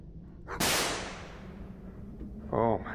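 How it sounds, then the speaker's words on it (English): A gunshot effect in the video game Stay Out of the House, one sharp loud crack with a long decaying tail, followed a couple of seconds later by a short ringing metallic tone. "Can we not do the gunshot noise while I'm staring at the dog?"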